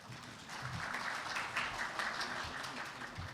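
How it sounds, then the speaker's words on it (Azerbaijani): Audience applause at a perfume master class as a panel moderator is welcomed on stage, a steady wash of clapping from many hands filling the room at moderate volume for a few seconds. "Cavid Məliklini qarşılayın. Alqışlarınızla"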